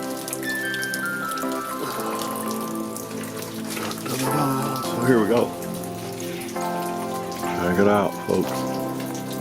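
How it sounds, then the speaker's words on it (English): Steady rain falls on a greenhouse and its gutter, a constant wash of drops throughout, with someone talking over it and a few louder bursts of sound near the middle and end. "Yes, still raining."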